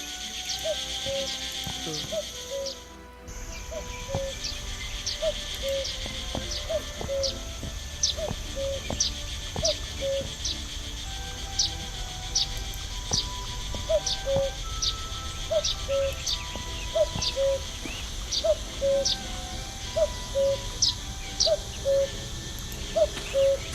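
Cuckoo calls in the game The Night of the Rabbit, a night scene in Mousewood: repeated two-note calls recur at a steady rhythm over a dense, constant bed of ambient night sounds, moderately distant.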